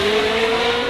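Mercedes-AMG ONE with its Formula 1 derived 1.6 litre turbocharged V6 producing a loud, close, sustained high-pitched engine drone held steady for under a second.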